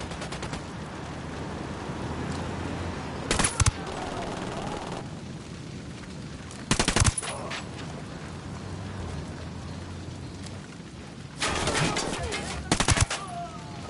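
Bursts of automatic gunfire from the video game Ghost Recon Wildlands, three loud volleys spaced apart over a steady rain-like ambient bed, with no talk.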